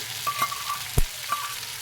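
Potatoes frying with a ground cumin, mustard seed and green chilli paste, a continuous close sizzle broken by a few spoon scrapes and one sharp knock against the pan.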